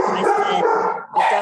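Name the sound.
dog barking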